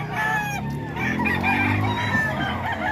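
An 8-month-old Thompson White stag gamefowl rooster crows loudly and close, one drawn-out call with clucking fowl around it and no talk.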